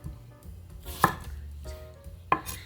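A knife chops through cucumber on a cutting board, several sharp distinct cuts with brief pauses between them, close and clear with no one speaking.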